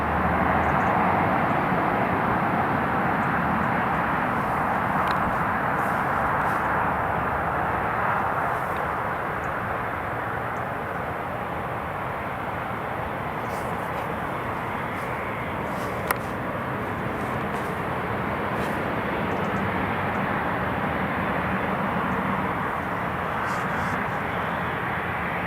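An Italian Air Force C-27J aircraft taxiing at Newcastle International Airport, a steady broad engine drone holding at moderate loudness throughout, with no clear rise or fade.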